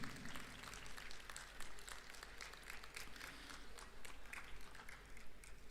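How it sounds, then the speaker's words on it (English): An audience at a university student induction program applauds guests and the organizing team, a faint, steady patter of clapping heard from a distance. "Let us all give a big round of applause to our distinguished guests and the entire team."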